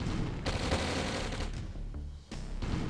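Anti-aircraft guns pound away at Yak planes in Command & Conquer Red Alert, a steady, dense stream of rapid booming fire that runs almost without pause, briefly dipping before resuming.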